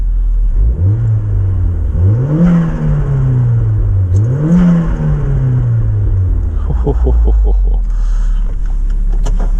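A turbocharged Mk1 Mazda MX-5 sits in a wet, empty car park as its engine is revved hard several times, rising and falling loudly up close, then settles into a low idle with a few sharp pops.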